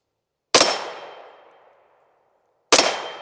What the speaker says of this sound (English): So we'll show you here first that it will shoot with the buttstock folded.